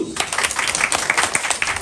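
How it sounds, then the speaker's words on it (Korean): Students in a Korean history class clap together on cue, a short burst of quick, close handclaps with a voice briefly audible among them. "박수!"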